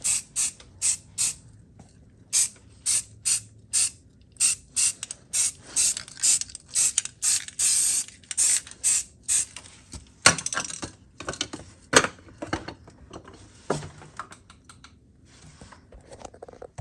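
Short bursts from a spray can on a Ford Mustang II rear seat bolt, a rapid regular series of hissing puffs with rattling clicks, then more irregular sprays and clanks toward the end.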